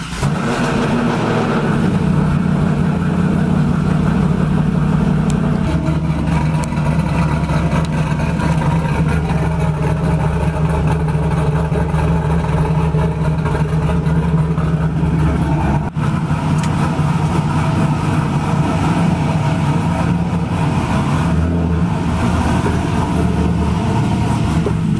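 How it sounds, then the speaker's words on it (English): A car engine cold starts and settles into a steady, loud idle with a low rumble that continues throughout. "Get the windows cracked for a proper cold start sound."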